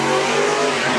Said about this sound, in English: 2 Mustangs went down the drag strip